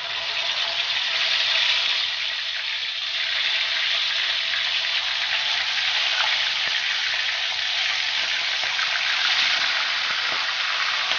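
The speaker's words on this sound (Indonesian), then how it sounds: "Ini saya mau goreng dengan minyak banyak." Chicken pieces frying in a generous amount of hot oil for turmeric fried chicken, giving a steady, loud, close sizzle with fine crackling throughout and no voices.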